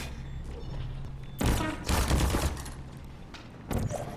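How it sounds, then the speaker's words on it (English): Turret gunfire in the video game Portal during a speedrun race: bursts of rapid shots hit around the middle and again near the end, loud over a low background hum. "So he used a turret there to hit GLaDOS"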